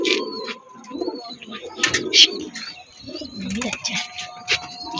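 Pigeons, just released, coo and chirp nearby in a continuous mix of soft, throaty calls and short tweets, with some faint background noise.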